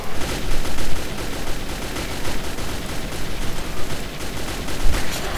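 Rapid, continuous gunfire as monsters are shot in the video game Metro 2033, a dense, loud barrage of overlapping shots with no break in the firing and no talk.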